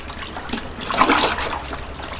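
Water poured into a basin for cold-dye fabric dyeing with Wantek dye on navy trousers, a short close splashing gush that swells to a peak and then eases to a trickle.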